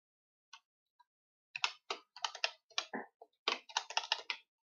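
Quick bursts of computer keyboard typing as a name is entered into a registry field, crisp close key clicks in short clusters separated by brief pauses, with no speech.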